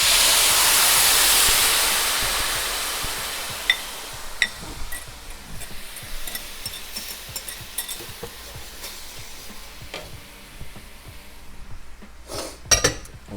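Honey garlic sauce splashes into a hot pan with a loud initial hiss that settles into steady sizzling, punctuated by clinks of a utensil against the pan.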